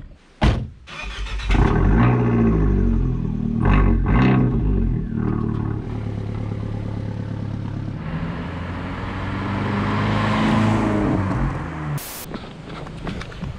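An Abarth 124 sports car approaches and passes on the road toward the Stelvio Pass, its engine swelling loudly from close by, holding steady, then easing off as it moves away.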